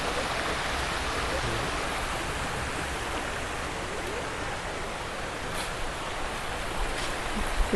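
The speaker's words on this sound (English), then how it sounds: "You hear the water running?" A stream runs at Natural Bridge on an outdoor nature walk, a constant broadband rush of water at moderate level. Faint clicks and movement come through now and then, and there are no voices.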